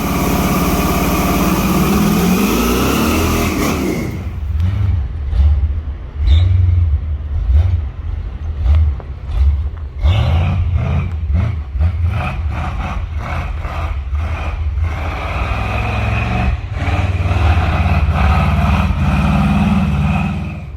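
A GMC Jimmy SUV engine revs and runs close by, rising and falling in pitch, with crunching, uneven bursts as it drives over rough snowy ground.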